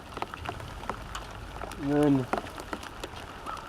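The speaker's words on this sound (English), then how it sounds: "it is really raining out" Steady rain patters outdoors beside a campfire being lit for cooking, a soft continuous hiss running under a voice for the whole stretch.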